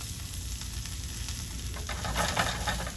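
Fresh vegetables sauté in oil in a hot pan, giving a steady close crackling sizzle that brightens and grows a little louder toward the end, with no talking.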